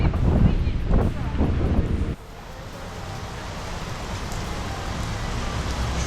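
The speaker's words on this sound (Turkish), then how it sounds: "Fena yağmur bastırdı." Heavy rain with wind buffeting the microphone on a street in Mexico, a loud steady rushing wash with low rumbling gusts, and some clattering activity in the first two seconds before it settles into a constant roar.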